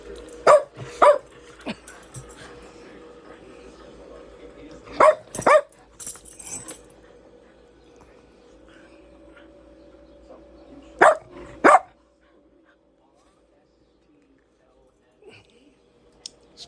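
Dogs bark in short bursts of two or three sharp yaps, spaced out over a quiet stretch with a low background hum, fairly close and loud.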